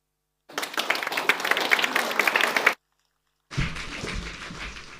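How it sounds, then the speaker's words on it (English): A conference audience at a war and hospitality event gives a short round of applause, dense clapping that stops abruptly, then a second burst of clapping resumes after a brief silence. "Very good idea getting the round of applause before I say anything"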